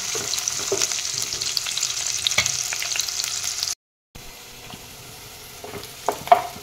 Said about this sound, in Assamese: পিঁয়াজখিনি মই অলপ ৰংচঙুৱা কৰি ল'ম।